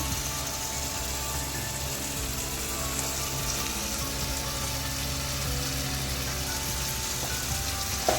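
Prawn rezala masala being sautéed in a pan, a continuous even sizzle with faint stirring, steady and close throughout.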